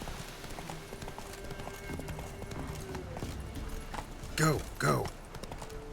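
Hooves of the horse Roach in The Witcher 3 clip-clop at a steady trotting rhythm under a voice urging the horse on, with two louder vocal bursts near the end.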